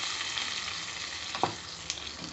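Sesame oil tempering with mustard seeds, curry leaves and dried red chilli being stirred into onion chutney, a close steady sizzle with a few soft scraping stirs, no talk.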